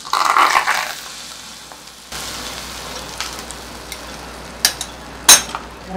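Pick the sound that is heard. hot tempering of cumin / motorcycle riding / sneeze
hot tempering of cumin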